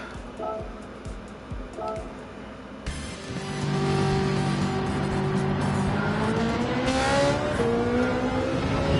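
A Ferrari's engine roars in the racing video game Gran Turismo 7. After a few quieter seconds it climbs into loud, sustained revving with rising pitch and some tire noise, close and continuous.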